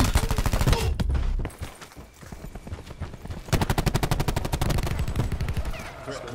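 Rapid bursts of automatic gunfire crackle in Call of Duty Black Ops 4, close and loud, with fast regular shot trains that pause briefly and then resume in long sustained volleys.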